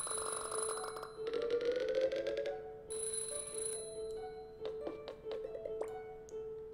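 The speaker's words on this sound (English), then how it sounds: "You awaken to the sound of your alarm and reach it off." An alarm clock rings in a video game, with electronic tones, then a rapid trilling bell, a pause, another ringing burst and a few sharp clicks as it is switched off, set over quiet background music.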